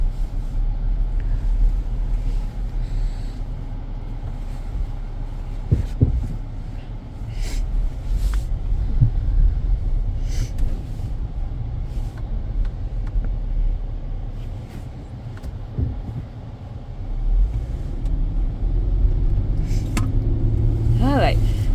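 A 2007 Dodge Magnum pulling away and driving, with a steady low engine and road rumble heard from inside the cabin, a few faint clicks and a brief rise in engine noise near the end.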